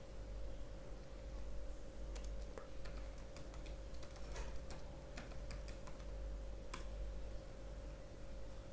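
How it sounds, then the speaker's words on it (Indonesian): Fingers tap out a command on a computer keyboard, a run of light, irregular clicks over a steady low hum and hiss, fairly close but soft. "kemudian kita ketikkan perintah composer"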